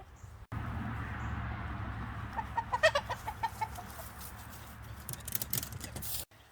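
Chickens cluck near a creek with woods. A short run of soft, close clucks comes in the middle, over quiet outdoor background noise.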